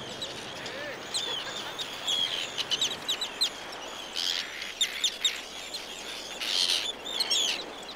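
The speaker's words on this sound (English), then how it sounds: "Arctic terns defend their territory by attacking the 25 bird watchers allowed on the island at one time." Arctic terns call on an island, sharp high chirps and harsh cries coming in scattered bursts over a faint steady background, moderately close and fairly quiet.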